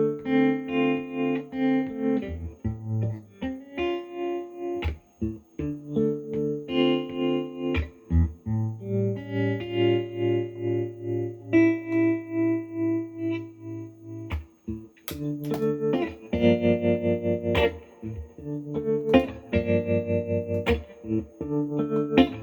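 A guitar runs through an effects pedal on a slow, soft setting, notes swelling softly with a warbling, chorus-like shimmer; slow picked phrases continue for over twenty seconds.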